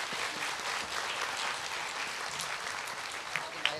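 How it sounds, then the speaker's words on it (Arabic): Audience applause at a children's show marking World Children's Rights Day, a dense, steady clapping wash that holds throughout with a few sharper claps standing out near the end. "أعطوها تصفيقة كبيرة كبيرة، أعطوها تصفيقة حرة حرة حرة لفوق."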